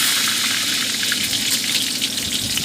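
Potatoes frying in hot mustard oil in a pan, a steady dense sizzle that stays close and loud throughout, with no talking.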